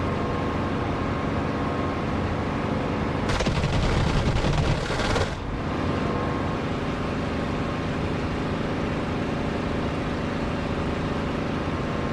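Aircraft cannon fire from a Spitfire in the DCS flight simulator, strafing containers: a dense, loud burst of rapid shots lasting about two seconds over a constant engine drone, with no talk.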